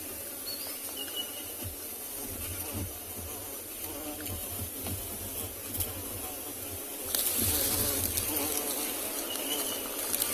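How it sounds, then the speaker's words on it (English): Large carpenter bees buzz close by during a sunrise safari in the Kalahari bush, a continuous droning hum that rises a little louder near the end, with no talking. "just to see if we can get one closer look of these carpenter bees"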